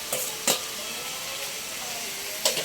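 Ingredients for laing being sautéed in a pan, giving a steady soft sizzle with a few sharp clatters of stirring, close and moderately quiet, with no talking.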